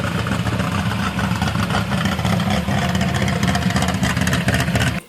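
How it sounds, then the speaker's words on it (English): A Nissan L-series engine (L24/L26/L28) with a wild cam idles erratically, a loud, steady, rough rumble that runs without pause for about five seconds and then cuts off abruptly. "a really wild cam is going to have a really erratic idle"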